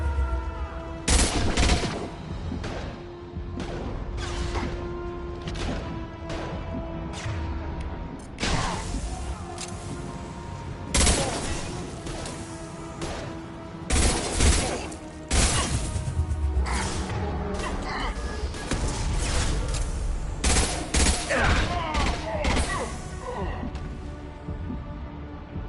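Heavy gunfire rattles in a firefight in the video game Mass Effect 2, with dense bursts and sharp shots across the whole stretch, mixed with mechanical clanks and impacts and occasional voices.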